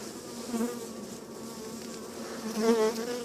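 Honeybees buzz close by during a hive inspection, a dense, steady hum with wavering pitch that swells slightly toward the end, with no speech.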